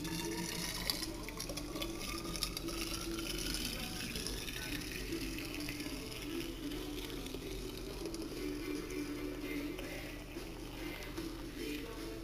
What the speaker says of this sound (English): so you just put the water in your thermos